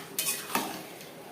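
A spoon scrapes twice through chicken and fried onions in a pan, faint and brief with a light sizzle beneath, no voices.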